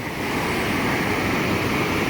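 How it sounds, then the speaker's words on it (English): A small waterfall on the Temperance River just below a bridge pours in a steady, dense rush of white noise, close and constant throughout. "the bridge that we were just on has a small waterfall just below"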